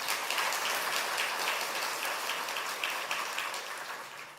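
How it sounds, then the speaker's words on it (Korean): A church congregation applauds the worship band's instrumentalists during a service, a steady wash of many hands clapping at moderate distance that stays fairly even before tapering slightly at the end. "악기팀들 격려 박수 한번"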